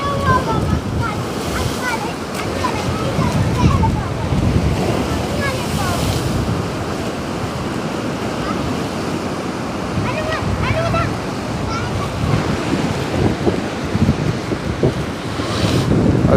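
Sea waves wash continuously on the coast near Jaffna, Sri Lanka, with steady wind buffeting the microphone and surf rumbling throughout, loud and close.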